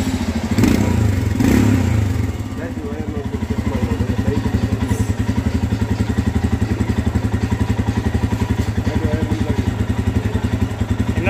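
Motorcycle engine started and left idling, a loud, close, steady rhythmic thump with some handling clatter and rougher revving in the first couple of seconds.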